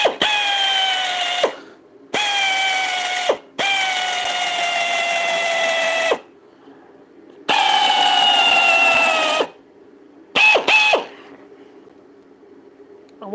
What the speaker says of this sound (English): we'll just put a couple of screws in